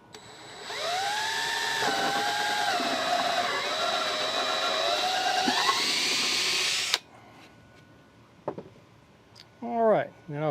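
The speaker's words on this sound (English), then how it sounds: "I'm going to drill the holes that my nails are going in" A power drill whines loudly for about six seconds, its pitch shifting under load as it bores nail holes in wood for a bluebird house, then stops; brief talking follows.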